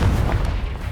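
A Confringo fire spell explodes in the Hogwarts Legacy video game with a single short, loud, deep boom.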